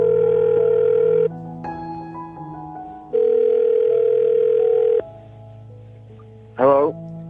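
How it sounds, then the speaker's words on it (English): On a radio morning show's call, a telephone line plays a sequence of steady electronic tones and dialing beeps, then a short warbling ring near the end, loud and clear with no talking over it. "I'm going to dial the phone number right now and see what he says"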